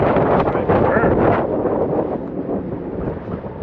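Strong wind buffets the microphone out on open water during a fishing trip, a loud, continuous roaring rumble that eases slightly toward the end.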